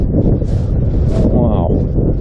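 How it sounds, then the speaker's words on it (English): Wind gusts through a sea cavern, a loud, blustery rumble buffeting in short swells over about two seconds. "that's a bit of a wind coming through there."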